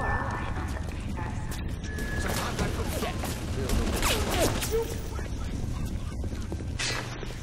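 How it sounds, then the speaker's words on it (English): Rapid gunfire and clattering chaos fill a BioShock fight, a dense, continuous barrage of shots and impacts with a voice talking over it throughout. "that's a gun"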